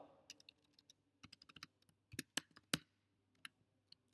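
A computer keyboard is being typed on while someone enters Java code, with quiet, irregular key clicks coming in short bursts and pauses. The typing is close and the room is otherwise silent.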